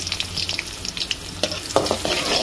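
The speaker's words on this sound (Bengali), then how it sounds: "আগে আমি রসুনটা লাল করবো, কড়াইতে রসুন দিয়ে দিলাম" Garlic fries in hot oil in a kadai while being stirred, a close, crackling sizzle with scattered pops and scraping spoon sounds, growing a little louder toward the end.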